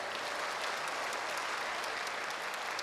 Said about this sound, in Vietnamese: Một tràng pháo tay nữa đi ạ.